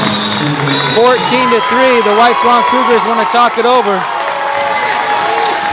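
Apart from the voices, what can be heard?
crowd noise from Granger Spartans fans at basketball game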